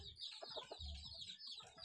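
Chickens cluck in quick, close bursts, a few soft calls overlapping against a quiet background.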